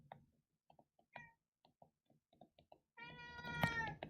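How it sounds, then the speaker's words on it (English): A pet cat meowing indoors, far off in the background: a series of soft, faint meows at first, then a longer, louder drawn-out meow toward the end. "You probably hear one of my cats over there in the background."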